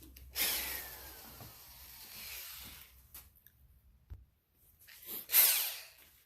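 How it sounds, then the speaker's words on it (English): A small drill whirs in short bursts into sheet metal, enlarging a hole with a different bit, with a faint scraping bite and pauses between passes; close and moderately loud. "make this hole a little bit bigger with a different drill bit"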